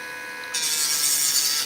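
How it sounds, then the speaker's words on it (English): Steady, close rasping of sanding down the edge of a paper model piece begins abruptly partway in and continues evenly, a bright scratchy hiss with no voices. "So what I'm doing is I'm sanding that down"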